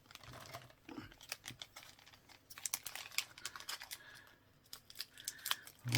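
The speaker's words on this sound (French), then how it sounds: "Je prends le ciseau, ça ira 2 fois plus vite." Scissors snip through a plastic package in a series of sharp, close cuts, mixed with crinkling and tearing of the wrapping, alone and uneven in rhythm.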